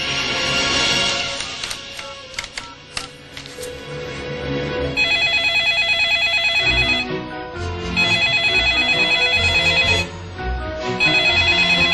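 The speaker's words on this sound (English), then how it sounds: "Are you going to answer the phone?" An electronic telephone ringtone trills in repeated bursts with short gaps between them, loud and close, over a low background of music and room sound, with no talking.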